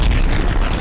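A time bomb goes off in the video game Plates of Fate: a short, loud, deep boom heard alone, filling the whole moment.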